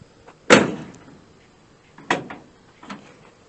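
A door on a 1965 Ford Galaxie 500 is shut while its newly installed latch is tested: one loud solid clunk, then two softer latch clicks a moment apart, with no one talking.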